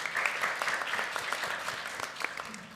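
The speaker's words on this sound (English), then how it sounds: "So a very big round of applause to you" Audience applause marking the close of a conference, a steady wash of many hands clapping throughout, moderately loud and fairly even with no speech over it.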